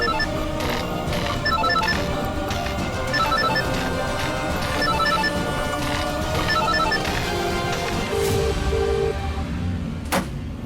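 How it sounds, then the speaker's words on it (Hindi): A phone ringtone repeats in short electronic bursts over a busy background of music or ambient noise, steady and moderately loud. "रिंग बज रही है।"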